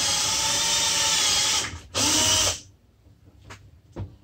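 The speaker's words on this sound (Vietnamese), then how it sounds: "Khoan mồi để mà nó sát lên luôn." A power drill bores a pilot hole for mounting a Hot Wheels display frame, a loud close whine in two bursts with a brief pause, then stopping into quiet handling clicks.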